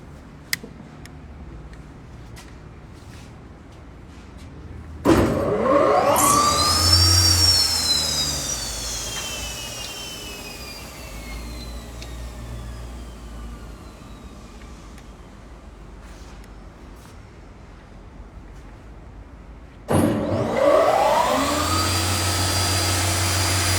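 A vacuum load lifting machine switches on with a sudden loud whoosh and rising whine, then runs as a steady humming suction drone. It cuts off and starts again near the end with a second sharp onset.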